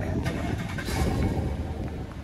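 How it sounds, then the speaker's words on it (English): A 2019 GMC Sierra 1500 AT4 pickup truck with dual exhaust is remote started, giving a steady, deep engine rumble close by without any talk. "This truck's got a nice sound to it. We'll auto start it real quick."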